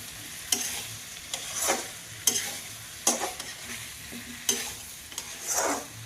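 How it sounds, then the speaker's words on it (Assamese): Meat curry is stirred in a pan on the stove: a spoon scrapes through the thick, sizzling gravy in about six distinct sweeping strokes, each followed by a brief crackle, heard close up with no talking. "এতিয়া এই মাংসখিনি মই লৰাই আছোঁ"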